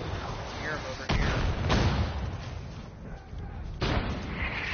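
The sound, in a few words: enemy mortar firing in video game Far Cry 5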